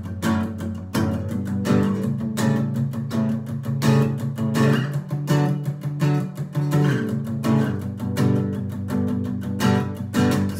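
A song strummed as chords on an acoustic guitar, a steady rhythmic strum with ringing harmonics that fills the whole stretch, close and fairly loud with no talking.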